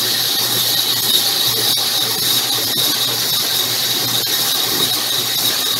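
A sphere grinding machine runs on a Yooperlite stone, giving a steady, loud, high-pitched squealing whine with constant hiss and faint periodic ticks throughout, with no voices.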